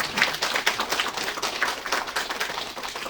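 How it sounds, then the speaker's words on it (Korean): A crowd claps at a campaign office opening ceremony in Gangneung: dense, steady applause of many hands, fairly close and even in loudness across about three seconds, with no voices standing out. "박수 한번 드리겠습니다"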